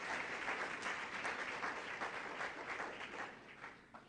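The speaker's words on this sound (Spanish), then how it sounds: "démosle un aplauso al Rey de Reyes." A church congregation applauds together, a steady wash of many hands clapping that holds for several seconds, then thins out and fades toward the end.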